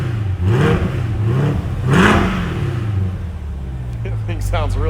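A stock Chevrolet Corvette C8 is revved twice in quick, loud sweeps that climb and settle, heard up close, with people talking over the engine as it drops back to idle.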